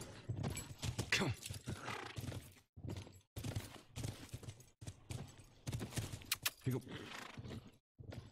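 Horses in The Last of Us, hooves clopping and snorting in the game with loud broken crashing and rushing noise through most of the stretch.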